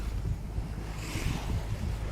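Sea waves and wind at sea far out in the Mediterranean, heard from aboard a boat: a steady, fairly quiet rush of water and wind noise with soft low rumbles, no voices.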